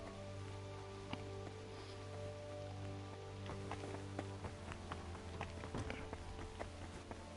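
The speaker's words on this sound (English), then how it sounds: "Bloody rain." Steady rain pours on stone in the monastery of the video game Kingdom Come: Deliverance 2, a faint continuous patter with scattered drops and light footsteps under a low ambient hum.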